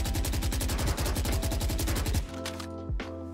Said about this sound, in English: I'd let go, reset myself, and start shooting again.